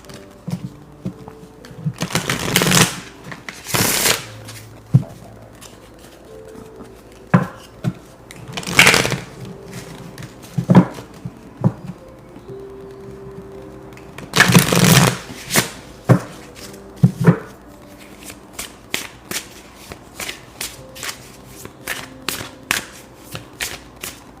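Tarot cards are shuffled by hand in several loud riffling bursts separated by quieter stretches, with soft taps and card handling between them, close and clear, with no talking.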